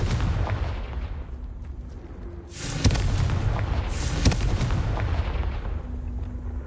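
Confringo blasting spell cast in Hogwarts Legacy, two sharp bright bursts a little over a second apart over a steady low rumble of ambient game noise, with no talking.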